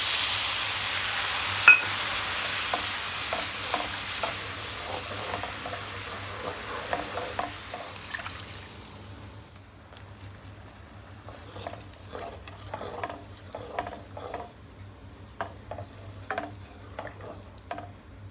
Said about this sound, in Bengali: এবার এই মশলাটাও ভাজা হয়ে গেল জল ঢেলে দিলাম